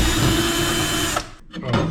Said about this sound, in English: Get those last 2 screws out of there.